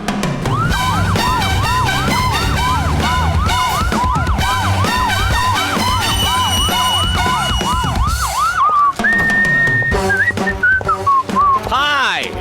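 A wailing ambulance siren sweeps up and down in steady repeated cycles for about nine seconds, loud and close, mixed with music and background noise, then shifts into a steady high tone before fading into a falling whine.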